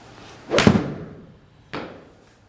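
A Callaway Chrome Soft golf ball struck on a practice shot gives one sharp impact, followed about a second later by a second, softer thud; no one speaks.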